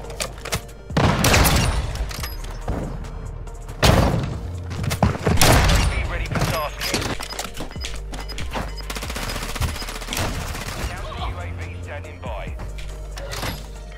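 Gunfire in a shooting video game with sniping, sharp cracks and bursts scattered across the clip over game noise, while players chatter now and then.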